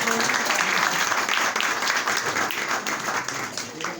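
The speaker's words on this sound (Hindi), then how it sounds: "भाई जुबैर साहब जोर से ताली बजाएंगे इनके लिए" Applause from a crowd at a Christmas cake-cutting program in Roshan Bheala, steady, dense and fairly loud throughout, with a few voices mixed in.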